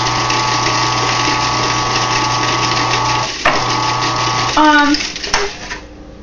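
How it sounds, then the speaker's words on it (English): An electric food processor pulses a cheesecake crust into crumbs, its steady motor whir running for a few seconds, briefly cutting out, then stopping, followed by clattering and a squeaky scrape. "Now we're going to pulse it so it gets uniform."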